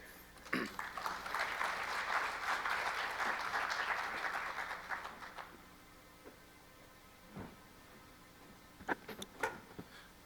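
Audience at an AAAI 2019 conference lecture applauds to welcome the speaker, several seconds of dense clapping that fades out, leaving a quiet room with a few scattered knocks and shuffles.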